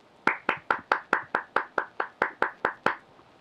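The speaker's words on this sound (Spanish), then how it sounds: "Para ustedes el aplauso que están escuchando" About a dozen sharp, evenly spaced hand claps ring out in a steady rhythm, crisp and close with nothing underneath, more like a single clapper than a crowd.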